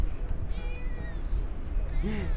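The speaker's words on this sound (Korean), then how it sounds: "여기도 야옹이가 있네." A small kitten meows a couple of times outdoors on a coastal walking trail, short rising cries near the mic over rustling handling noise and background ambience.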